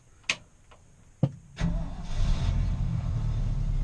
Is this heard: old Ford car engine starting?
yes